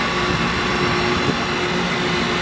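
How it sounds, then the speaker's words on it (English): An electric trimaran runs at 20 mph, its steady motor whine humming through a broad rush of wind and water noise, close and continuous. "So you still get a little bit of motor noise back there"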